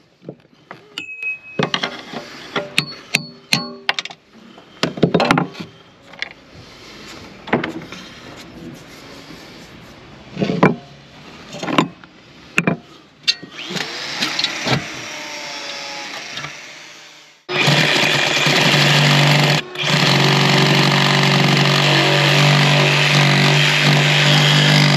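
A power tool cuts through a rusty steel section of boat deck around a mast step, bursts of grinding and cutting broken by pauses, then a loud continuous machine roar runs steadily through the second half.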